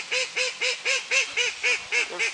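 Free-ranging crested ducks give a steady run of about nine evenly spaced, honking quacks, clear and fairly close, with no talk over them.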